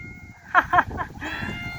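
A cat outdoors at the Ingalls family homestead site in De Smet, South Dakota, gives two short, close meows in quick succession, followed by a fainter call.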